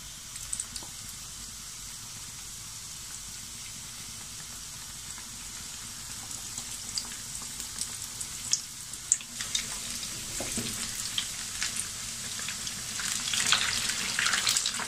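Chicken pieces fry in a pan of hot oil over medium-low heat, a steady soft hiss that swells into louder crackling and popping as more pieces go in.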